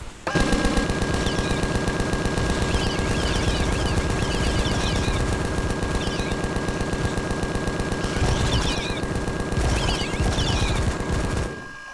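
Sustained automatic weapon fire in the survival video game Empyrion Galactic Survival, one long unbroken burst of rapid shots at an even rhythm, loud and close, with brief bursts of higher crackle layered on top, cutting off just before the end.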